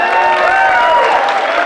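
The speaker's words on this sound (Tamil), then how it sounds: "நான் கைதட்டு சொன்னா ஆட்டோமேட்டிக்கா தட்டுறாங்களே" Clapping and cheering from a comedy show audience, a dense steady wash of applause filling the whole moment at close range with a murmur of crowd voices.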